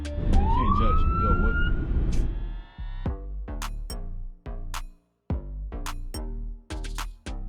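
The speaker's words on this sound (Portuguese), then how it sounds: "aparece o carro de polícia com a sirene ligada." A police car siren wails loud and close for about two seconds with a rising tone, then cuts off, followed by a run of rhythmic percussive hits; background voices mix in beneath.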